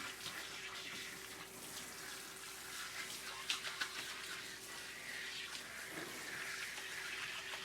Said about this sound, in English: It takes longer to rinse out than it does to lather, so make sure you get everything, all the soap out of the hair.